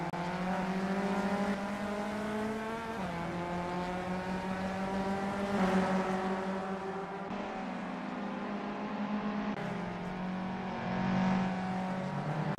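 VW Up Cup race cars lap a circuit in a tightly bunched pack, with several small engines droning and revving steadily and fairly close, pitches shifting as they take the curves.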